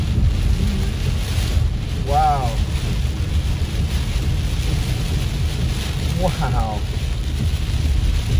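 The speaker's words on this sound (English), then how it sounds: "look at the rain blowing straight ahead in the sky." Heavy rain driven by strong wind during Tropical Storm Hilary at Baldwin Lake in Big Bear, a loud, unbroken roar with microphone buffeting, and a person briefly exclaiming twice.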